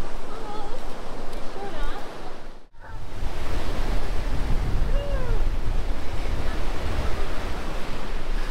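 Ocean waves wash onto the beach at Cahuita, Costa Rica, in a loud continuous surf roar with wind buffeting the microphone, dropping out briefly before the wash returns; faint voices sound in the background.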